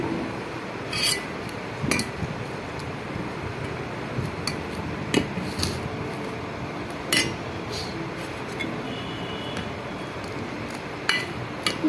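Dosa batter being stirred with water inside a metal vessel, giving a steady scraping rub with scattered clinks of utensil against the pot over about twelve seconds, close up, with no talking.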